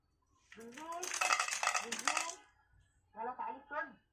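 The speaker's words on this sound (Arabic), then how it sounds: "وهضغط بقى على الزرار واقول له ايه، نزل يلا الاكل" A remote-controlled automatic cat feeder releasing dry food, with a recorded voice-like call and a rattling clatter of kibble spilling out, followed by a shorter second burst of sound; fairly quiet and close in a calm room.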